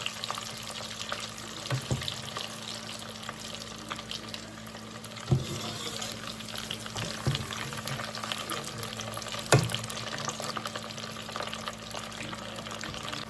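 Steady, dense sizzling and bubbling of frozen french fries frying in hot oil, with occasional clinks and knocks over the continuous hiss.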